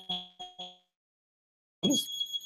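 A fire alarm system buzzer sounding because a door has been held open too long: three short, loud buzzing beeps in quick succession, then silence, followed by a louder burst of noise and voices.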